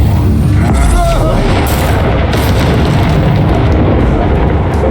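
A Confringo spell explosion in Hogwarts Legacy combat, a loud booming blast amid dense rumbling battle noise, with brief voices mixed in.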